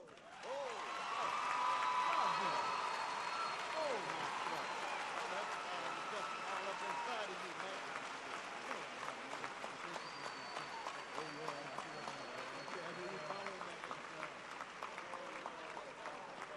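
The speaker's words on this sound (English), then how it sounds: "Let's give another round of applause for Dr. C. Liegh McInnis." Audience applause and a few whoops following a poetry reading at an event opening for Cornel West, loud at first then settling into sustained clapping for the rest.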